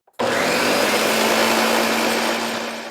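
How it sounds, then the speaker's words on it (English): A blender runs at full power on soaked ingredients, starting abruptly with a steady, loud motor whir and churning that holds for nearly three seconds before easing slightly. "then you want a really good blender"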